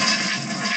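A singing novelty toilet flushes with a loud, steady rushing of water that fills the whole moment with no break.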